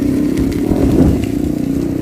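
A motorcycle passing close by on a street, its mid-pitched engine droning loud and steady through the whole brief moment.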